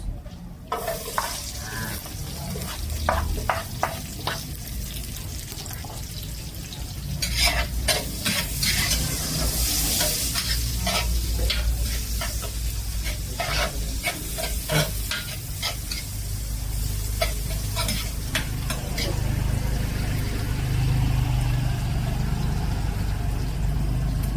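Onion sautéing in a pan after garlic for paksiw, a continuous sizzle broken by repeated clattering stirs and scrapes of a spatula, fairly close and loud throughout.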